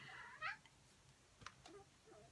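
A quiet kitten meows a few times at a door, faint and somewhat distant, with soft scratching or bumping sounds between the cries as it tries to get in.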